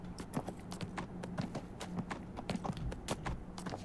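Horse hooves clip-clopping at a steady trot in the fantasy video game Neverwinter, a close, continuous rhythm of clear hoof strikes with faint background game ambience.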